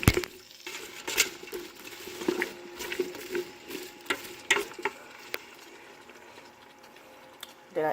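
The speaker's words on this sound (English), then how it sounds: "So we're gonna mix all of that up, scrape up whatever is in the bottom." A spoon stirs and scrapes an oxtail mixture in a cooking pot, with intermittent soft clinks and scrapes against the bottom, a faint simmer beneath, and occasional quiet talk.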